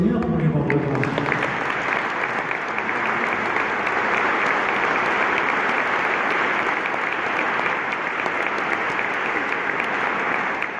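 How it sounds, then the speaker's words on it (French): A church congregation at a Holy Eucharist in Les Sables d'Olonne, France, claps hands in sustained, dense applause that swells within the first second and holds steady and loud to the end. "Nous pouvons applaudir notre Seigneur pour lui rendre grâce."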